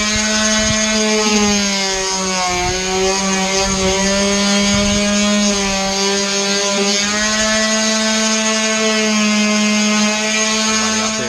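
A power sander works continuously on a Raptor-lined ablative armour panel, giving a loud, steady motor drone with a strong harmonic hum that wavers slightly as pressure changes, close up and without speech.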